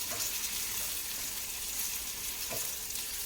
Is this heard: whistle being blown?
no